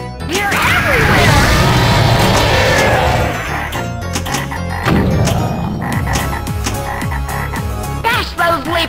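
Cartoonish frog croaks sound from a Scared Stiff pinball machine, loud and mixed with crashing effects, mechanical clatter and spoken voice callouts throughout.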